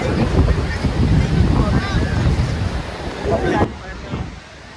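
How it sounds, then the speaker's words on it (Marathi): Wind buffets the microphone over a steady wash of surf on a beach at Alibag (Murud), with waves rolling in close; the roar cuts down abruptly near the end. "समुद्र किनाऱ्याचा थंडगार वारा आणि लाटा बघू शकता तुम्ही"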